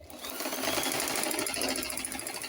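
A sewing machine runs steadily, stitching a lined front-slit long skirt, its continuous mechanical whirr close and loud with no talking.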